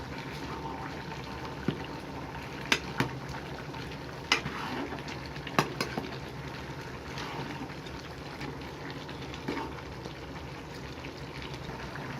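Gongura chicken curry is stirred in a pot, a steady frying sizzle running throughout with a few sharp scrapes and clinks of the spoon against the metal at irregular intervals, no talking.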